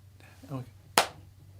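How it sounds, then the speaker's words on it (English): A single sharp hand clap lands just after a short spoken word. It is a crisp, close, isolated burst in a quiet room, and a second faint snap follows at the very end. "We'll get that sound. Clap."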